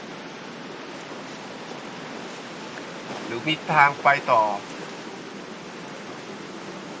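A waterfall in Genshin Impact gives a steady, even rushing roar through the whole stretch, with someone briefly speaking over it midway.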